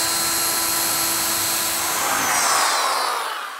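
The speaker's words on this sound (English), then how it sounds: "So I'm gonna go ahead and get this one drilled with this, and then obviously drill the rest of these out." A power drill bores out spot welds on a 1965 Mustang body, a steady high-pitched whine held for a few seconds and then winding down, close and alone.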